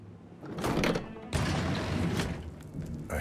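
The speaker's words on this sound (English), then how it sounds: "A hidden door. It's a secret passage." A hidden secret-passage door in the Hitman 3 video game rumbles and grinds open, a loud mechanical slide with a heavy thud partway through, followed by fading rumbling.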